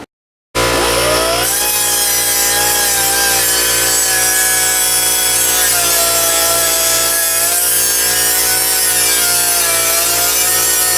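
An air-powered cutoff tool slices through metal for a mini bike chain guard, making a loud, constant high-pitched whine over a steady rasping grind with a slight pulsing rhythm.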